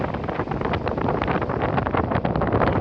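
Strong gusting wind at the seaside in Normandy buffets the microphone in a loud, rough, continuous roar with fluttering bursts throughout.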